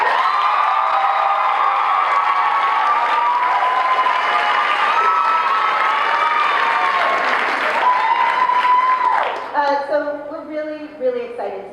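A crowd at a live evening event bursts into sustained clapping with cheers and whoops, loud and dense for about nine seconds before fading, while a voice speaks over the tail end.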